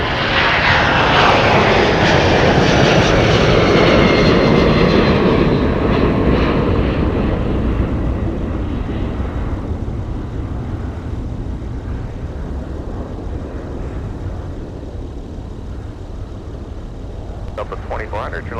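A Delta airliner takes off from runway 30 left, its engines roaring loudly at first and then fading steadily as the jet climbs away, with a low rumble lingering at the end.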